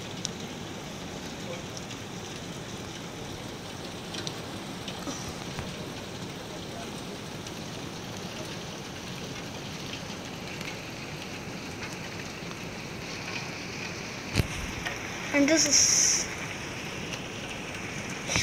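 Heavy rain pours outside a house in New Jersey during a tornado warning, a dense, continuous hiss of drumming rain throughout, with a brief louder thump near the end and a voice speaking briefly.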